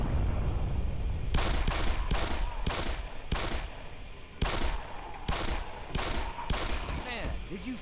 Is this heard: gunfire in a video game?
yes